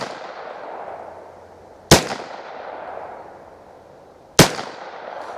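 Two sharp rifle shots from a .22lr firing Federal Premium Punch ammunition, sharp cracks about two and a half seconds apart, each with a short decaying ring, loud and close outdoors.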